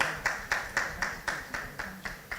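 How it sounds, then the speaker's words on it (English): Steady rhythmic hand claps at a conference awards ceremony, about four per second, crisp and fairly close, with no voices over them. "Round of applause."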